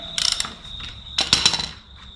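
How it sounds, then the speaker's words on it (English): A wrench works loose the big 22 mm axle nut on a Yamaha dirt bike wheel, giving two short bursts of clicking, ratcheting metal, close and fairly quiet, with a brief pause between. "Undo this big nut, which is a 22 on a Yamaha."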